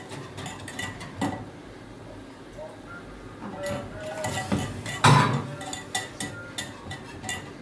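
Béchamel sauce stirred in a pot, a spoon scraping and knocking against the metal with irregular clinks and one louder clatter, close by, under faint background talk.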